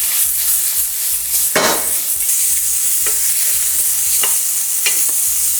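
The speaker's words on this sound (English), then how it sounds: "Put the sausage in, the salami. I want this to fry for a little bit." Sausage and salami fry in a hot pan, a dense continuous sizzle with sharp scraping stirs cutting through now and then, close and loud, no voices.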